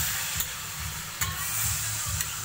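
Matki sprouts stirred in a kadhai, a steady hiss of frying with three sharp scraping strokes of the spoon spaced out, close and without talk.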